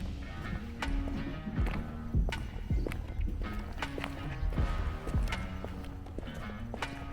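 Horses on a horse farm walking with steady, overlapping hoof clip-clops, moderately close and continuous, with occasional low snorts and no talk.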